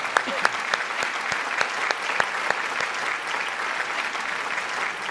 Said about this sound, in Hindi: एक बार जरा मेरे सम्मान में आप ताली बजा दो तो मुझे अच्छा लगेगा।